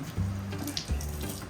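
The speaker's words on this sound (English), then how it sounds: "Look at this drinking water fountain tap." A drinking water fountain tap in New Zealand runs in short bursts, a steady gush that stops and starts again, close by, with low hum underneath.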